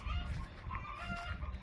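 Low, quiet clucking comes from chickens crowded under a mango tree on a Zambian farm on a hot day, a short, soft stretch of contented fowl sounds with no talk.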